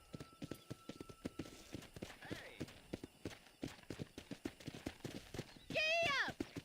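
Hooves clip-clop in a fast, steady gallop in the Red Dead Redemption video game, close and rhythmic, under talk, ending with a horse's whinny.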